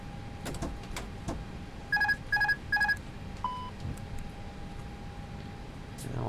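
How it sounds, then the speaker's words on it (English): Cockpit alarms in an A320 flight simulator video game: three identical rapid chime bursts in a row, then a single short tone, heard over a low steady cockpit hum. "Pop a few alarms here."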